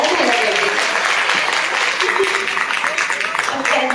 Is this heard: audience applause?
yes